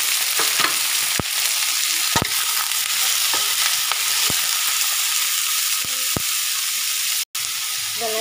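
Paneer and chopped greens sauté in a pan, a steady close sizzle broken by repeated sharp clacks of a spatula scraping and tapping the metal, with one brief dropout near the end.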